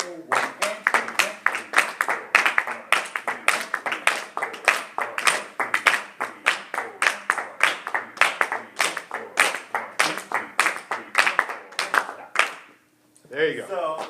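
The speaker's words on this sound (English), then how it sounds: "It's a little weird to clap on the off beats, right?" Students in a general music class clap a rhythm on the off beats, sharp hand claps in a steady repeating pattern alongside spoken counting, stopping briefly near the end.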